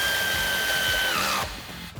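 A power tool with an 18mm socket drives a shock-absorber bolt home on a Jeep Wrangler JL lift kit: a high whirring spin for just over a second that slows and cuts off, then brief clatter.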